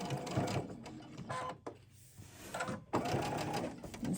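A sewing machine stitches a fabric table runner in short close bursts of rapid whirring, stopping briefly twice before resuming, with a quiet indoor background.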